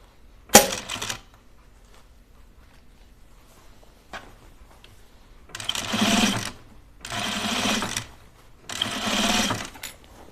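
A sewing machine stitches the inseam of pajama bottoms in three steady bursts of a few seconds each, preceded by a sharp click, close and alone with no talk.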